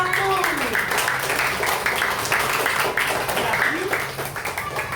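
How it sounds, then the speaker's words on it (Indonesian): Children in a primary classroom clap for a group of classmates, a busy patter of small hands mixed with excited young voices and a teacher talking over the noise. "Lihat tepuk tangan untuk kelompok 1."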